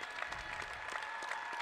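Steady round of applause from Maine fans at a Vermont vs Maine NCAA college basketball game, honoring two players; dense clapping fills the arena evenly with no breaks.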